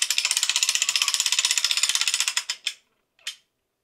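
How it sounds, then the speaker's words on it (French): A crossbow is cocked by a ratcheting mechanism, giving a fast, even train of loud, crisp clicks that slows into a few separate clacks and ends with one last click after a short pause. "Je vais armer, on va tirer une flèche"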